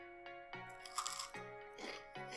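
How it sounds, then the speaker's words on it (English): Bites into a crispy, hard homemade cookie: several sharp, close crunches in quick succession, loud and dry against a quiet background with no talk. "Crispy, crunchy, hard."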